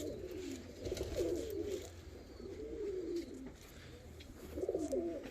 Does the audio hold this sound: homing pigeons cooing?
yes